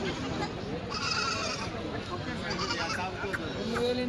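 Goats bleat several times in the background at a weekly goat market in Kadiri while people talk over them, with steady ambient noise throughout.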